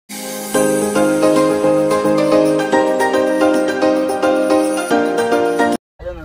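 A phone ringtone playing while calling friends during a road trip in an Innova Crysta, a loud melodic tune with repeating chime-like notes that runs for several seconds then cuts off abruptly.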